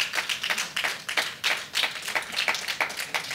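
A crowd claps steadily at a spiritual discourse by a yogi, with dense, fairly close hand claps forming an even patter and no one talking.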